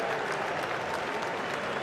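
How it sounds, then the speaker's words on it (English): Lord's cricket crowd gives Steve Smith a warm ovation as he returns to resume his innings at the 2019 Ashes Test, a dense, steady roar of clapping filling the ground without pause. "Lord's crowd greet Steve Smith, who will resume his innings to a great ovation."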